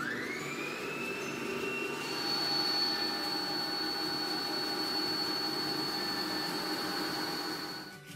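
Electric mixer whipping chantilly cream for a homemade frappuccino, a steady whirring hum that holds for several seconds with a rising whine near the start, then cuts off at the end.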